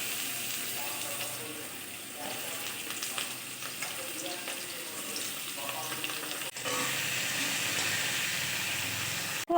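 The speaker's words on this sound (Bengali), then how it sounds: "এবার প্রথমে আমি আলুগুলো ভেজে নেব।" Potatoes sizzling in hot oil in a wok (kadai), a continuous close crackle and hiss with occasional stirring scrapes and a brief knock near the end, no talk.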